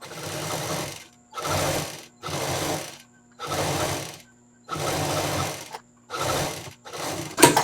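Sewing machine stitching a fabric strip for a travel handbag made from leftover fabric, seven separate runs of rapid mechanical stitching with short pauses between, close and clear.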